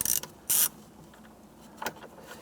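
Two T20 Torx screws are backed out of the dash bezel of a 1994-2004 Ford Mustang. A short ratcheting burst opens the clip, followed by a brief louder mechanical whir and a faint click near the end, with quiet between them.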